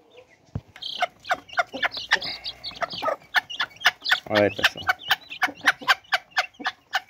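Brahma hens and chicks feeding, giving a steady run of repeated close clucks and peeps with a short rising squawk midway, while someone speaks briefly over them.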